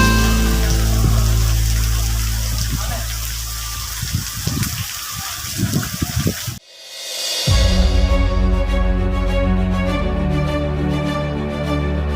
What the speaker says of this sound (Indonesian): momen hari hujan